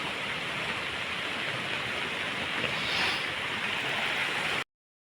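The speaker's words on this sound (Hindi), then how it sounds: "बहुत ज़्यादा तेज उफान में और पानी बढ़ते रह रहा है" Fast, swollen floodwater of a river rushing past as a dense, steady roar of broadband noise, loud and unbroken until it cuts off abruptly near the end.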